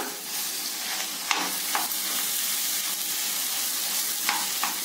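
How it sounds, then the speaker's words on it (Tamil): Mashed potatoes being stirred into masala frying in a pan for masala idli: steady close sizzle with a few sharp scrapes and clicks of the spoon, no voices. "ஆட் பண்ணி இந்த மசாலாவோட ஒன்னோட ஒன்னா நல்லா மிக்ஸ் ஆகிற மாதிரி கலந்து விடணும்"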